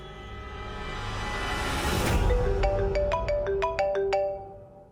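A telephone ringtone plays alone: a run of bright, repeating melodic electronic tones in the second half, following a louder burst of rushing noise.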